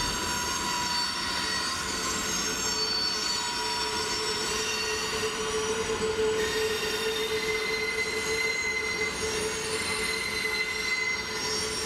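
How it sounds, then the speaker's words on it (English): An HO scale model freight train runs steadily, its wheels squealing in a sustained, high metallic tone with a faint rolling rumble underneath; no voices. "This is a westbound freight coming down the mountain towards Asheville and towards the signal project."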